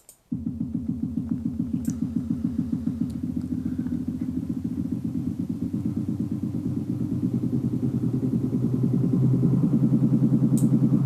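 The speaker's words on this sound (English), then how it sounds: "There's a combination of that will make quite a good engine sound." Synthesized engine sound built in Logic Pro X Ultrabeat, a rapid, steady, pulsing idle throb that holds evenly and then rises slightly as if revving, with a few faint clicks on top and no voices.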